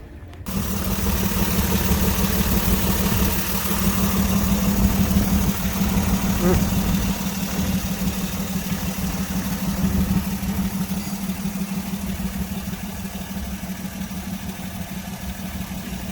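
A Hudson car engine idles steadily with a low, even rumble that holds for the whole stretch, close by and fairly loud.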